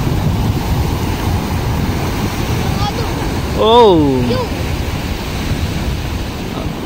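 Typhoon-driven waves and wind at sea, with a fisherman heading out in the storm, make a steady broad roar of surf and gusts; a voice lets out a short exclamation midway.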